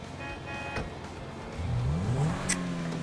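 A Zentaur car in GTA V revs its engine, a loud, close engine note rising through a gear change over a few seconds with a short tonal chirp near the end.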